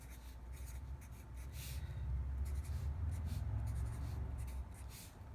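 Handwriting on paper while working out matrix values for an inverse, with steady scratching and scribbling strokes close by, continuous and fairly faint, no talking.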